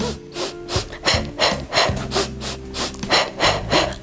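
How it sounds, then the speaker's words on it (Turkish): Rhythmic, breathy inhales and exhales during a beginner Pilates exercise, close and steady, repeating about every half second over faint background music. "burada 3 nefes alıp 3 nefes vereceğiz"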